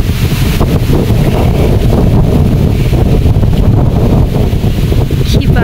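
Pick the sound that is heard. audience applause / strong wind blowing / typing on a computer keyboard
strong wind blowing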